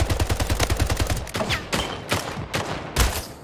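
Rapid automatic gunfire in the video game Splitgate rattles in a dense rhythmic burst, followed by several sharper separate shots, loud and close with no talking.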